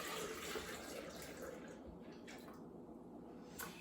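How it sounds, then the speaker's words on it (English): Milk and water pour steadily into a blender in a continuous splashing stream, close by, with faint clatter underneath and no talking. "I'm going to add my milk and water to my blender."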